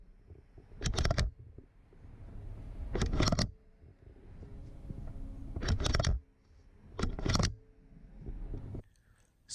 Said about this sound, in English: You can hear the clicking of the thing spinning